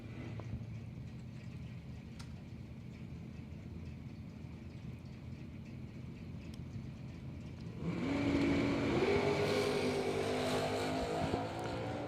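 A 1969 Camaro and a 1972 Camaro at a drag strip, engines idling as a distant steady rumble before both cars launch into a louder, sustained roar with rising engine tones.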